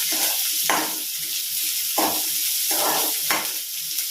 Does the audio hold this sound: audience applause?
no